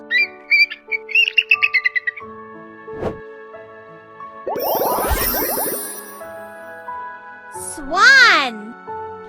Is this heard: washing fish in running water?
no